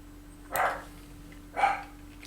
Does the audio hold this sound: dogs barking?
yes